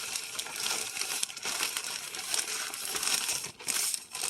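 Paper towel crinkling and rustling while produce is wrapped for refrigerator storage, with steady close handling noise and brief crisp crackles throughout, and no voices.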